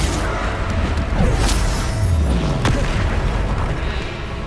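Bombarda blasting spells exploding in a Harry Potter video game set in the Deathly Hallows, heard as a dense, continuous roar of booms and crashes with swooshing sweeps, loud throughout and without pauses.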